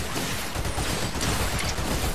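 Gunfire in the Fortnite Battle Royale video game, a dense, continuous rattle of shots from below that fills the whole moment at steady loudness, with no clear gaps between bursts.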